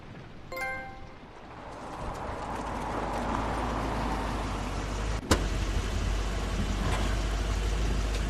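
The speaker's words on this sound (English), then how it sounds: "It's Crane's car" A car in The Wolf Among Us game rolls in with a rising, rumbling engine that builds and holds, broken by a sharp thud midway, with a faint chime at the start.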